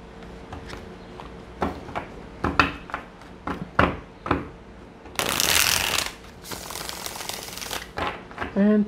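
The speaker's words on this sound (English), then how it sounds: "Let's get one more shuffle." Tarot cards being shuffled by hand, with crisp riffles and taps at an irregular rhythm and a long dense flutter near the end, close and moderately loud.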